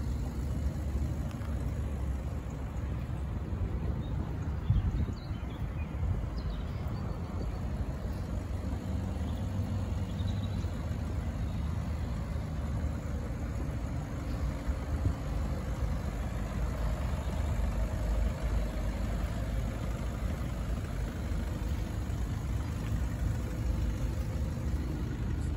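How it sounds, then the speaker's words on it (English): A 2015 Audi A3 turbo diesel sport convertible idles with a steady, low, moderately quiet rumble that holds unchanged throughout, with no voices. "65 reg, Audi A3, it's a turbo diesel sport convertible."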